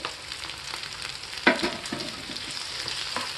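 Soya Manchurian fries on a high flame as chopped tomatoes go in, a steady close sizzle with a sharper crackling burst and a few stirring scrapes.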